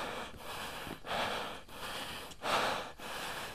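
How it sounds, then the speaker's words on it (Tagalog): Heavy panting from a person out of breath on a climb, a steady run of loud rasping breaths in close, regular cycles about every half second to second, with no talking. "Hingal agad ako."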